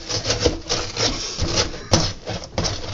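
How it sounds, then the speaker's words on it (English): The rough scrubbing side of a sponge rasps back and forth over a computer motherboard in quick, repeated strokes, close and dry, with one sharp click partway through. "take the scrubbing side of a sponge. Make sure you scrub it very well."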